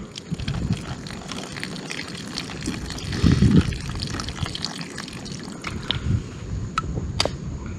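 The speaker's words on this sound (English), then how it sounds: "All you gotta do is pour cold water in here." Cold pond water is poured into granola outdoors at a lake campsite, a continuous splashing and gurgling pour with soft squishy wet sounds, close and fairly loud throughout.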